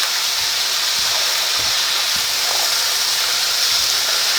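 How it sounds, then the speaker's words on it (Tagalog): Potatoes frying in a pan for breakfast burritos, a steady loud hiss and sizzle with a few faint low knocks of stirring underneath, no talking. "Pa-fry natin to hanggang sa maluto"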